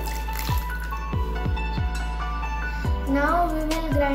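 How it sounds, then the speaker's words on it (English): Water poured or dripped into a container holding ground paper strips for recycled paper pulp, giving a series of close, distinct drips and plops followed by a short trickling fill. "So we will add a little much of water."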